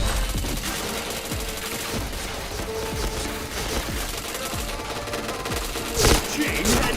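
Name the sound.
gunfire in the video game Point Blank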